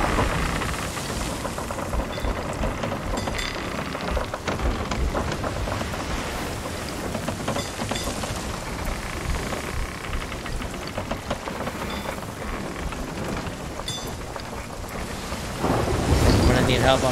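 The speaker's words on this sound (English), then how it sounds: "Let me just get out of the storm real quick." Stormy weather in the pirate game Sea of Thieves, with heavy rain hissing and rumbles of thunder rolling beneath it while a ship rides the sea; the roar stays constant and swells louder near the end.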